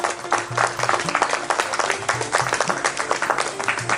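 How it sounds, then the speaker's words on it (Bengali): Loud applause breaks out for a correct answer at a Bengali quiz show round, with steady dense clapping filling the whole stretch and faint tonal background sound beneath it. "জোরে একটা হাততালি হয়ে যায়।"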